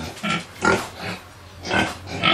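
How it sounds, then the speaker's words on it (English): Several pigs at a pig farm and vegetable demonstration site grunt and oink in repeated bursts, close and fairly loud, with about four rough snorting calls over a couple of seconds and no talking. "We have over 10 pigs now, 11 pigs."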